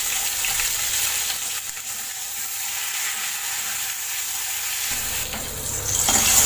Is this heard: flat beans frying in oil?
yes